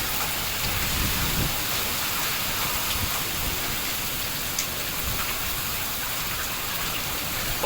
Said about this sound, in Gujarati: પવન સાથે વરસાદ હે મિત્રો.